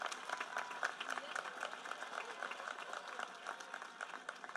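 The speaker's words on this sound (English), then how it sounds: "please give these graduates a round of applause" Audience at a graduation ceremony applauding the graduates, a steady wash of many hands clapping, fairly faint and distant, with occasional sharper claps standing out.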